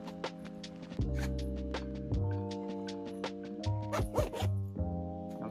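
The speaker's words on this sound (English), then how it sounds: "So there's those zippers." Zippers on a pet car seat protector pulled in several quick runs, close and crisp, with short pauses between strokes.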